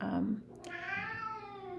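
A house cat with the zoomies on top of kitchen cabinets gives one drawn-out, odd meow-like call, fairly close but quiet, after a brief low rumble.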